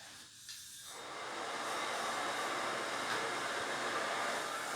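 A carpet cleaning machine with two 5.7 inch vacuum motors in series starts up and rises into a loud, steady motor whine and hiss that holds constant, with no voices.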